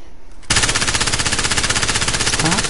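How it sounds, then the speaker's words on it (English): Rapid automatic gunfire in a video game erupts abruptly after a brief quiet moment, a loud sustained burst of evenly spaced shots that continues to the end. "Stop shooting, you're giving away your position, God."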